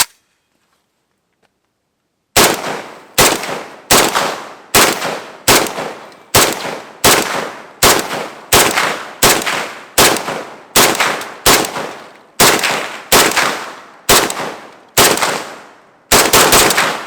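AK rifle firing at a block of ice, with a silent lead-in followed by a long string of loud, sharp single shots at a steady, roughly half-second rhythm, each with a ringing decay.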